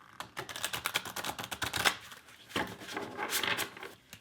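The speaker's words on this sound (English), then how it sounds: "So I usually do overhand shuffle like this after a couple of bridge." Tarot cards, a larger-than-usual deck, riffled in quick overhand shuffles, a dense run of crisp papery flicks and taps, close and fairly loud, with a brief pause midway before the shuffling resumes.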